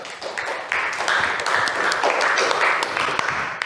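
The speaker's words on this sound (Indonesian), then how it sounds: "Tepuk tangan untuk kita semua." Schoolchildren in a classroom clap their hands together during a lesson on ablution practice, a loud, dense, irregular patter of many small hands lasting a few seconds, with some voices mixed in.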